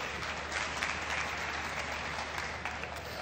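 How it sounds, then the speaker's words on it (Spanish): Short, fairly quiet burst of audience applause for a volunteer at a math-magic show, a brief even patter of many hands clapping with no voice over it. "un aplauso para Martín"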